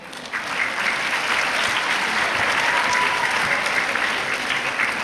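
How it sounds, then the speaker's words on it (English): Applause for schools at a kids' climate action fair, a large crowd clapping in a steady, dense wash that holds at full volume for about five seconds without talk. "let's give it a big hand of applause for all the schools that have come through today"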